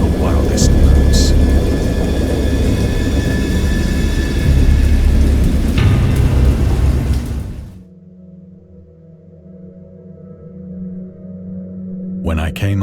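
Stormy weather in the Lovecraft horror game Dagon: steady heavy rain and rumbling thunder fill the first eight seconds, loud and close, then drop away to a low, quiet drone.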